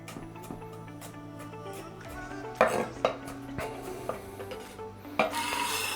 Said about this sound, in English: 3 garlic cloves. You can just smash them like this.